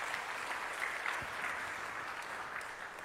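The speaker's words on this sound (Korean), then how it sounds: "하나님께 영광의 박수를 올려드립시다." A congregation claps together during a Korean church sermon, a dense and steady wash of applause that holds at an even level for about three seconds without any speech over it.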